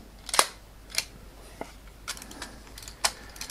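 Several crisp mechanical shutter clicks from a Purma Special camera, sharp isolated snaps spaced irregularly over a few seconds against a quiet background, no talking.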